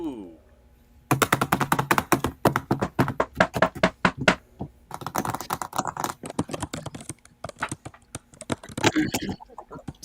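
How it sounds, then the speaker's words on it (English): Loud, rapid typing on a computer keyboard, dense clattering keystrokes in quick bursts with brief pauses, close and prominent throughout. "extra loud typing"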